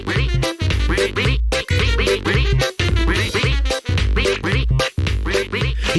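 Pato, the cartoon duck from Pocoyo, quacks in loud, close bursts that repeat in a steady rhythm, each separated by brief gaps, with no talking over them.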